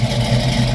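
Factory GM V8 car engine fitted with a throaty cam, with about 1,500 break-in miles, idling steadily with a deep, loping low rumble, close and loud, no talking.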